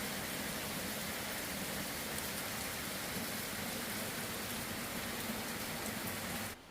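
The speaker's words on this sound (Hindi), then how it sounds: "अभी तो काफ़ी ज़्यादा बारिश लग गई है।" Heavy monsoon rain pours down on a hillside home in the mountains, a dense, steady hiss of falling water that fills the scene without pause, with no voices over it.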